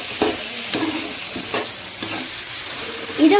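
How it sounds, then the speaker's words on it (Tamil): Onions, green chillies and curry leaves sauté in a pan for a sankara fish curry, with a steady sizzle broken by repeated scraping stirs of a spoon against the pan, close and fairly loud. "வெங்காயம், பச்சை மிளகாய், கருவேப்பிலை இதெல்லாம் போட்டு வதக்கிடலாம்."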